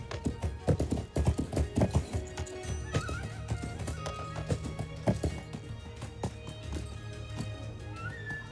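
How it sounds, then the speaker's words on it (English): Horse hooves clip-clop in a steady rhythm in a video game, with a horse neighing over the clatter and busy game sounds and music underneath, loud and close throughout. "Clippity clop, clippity clop."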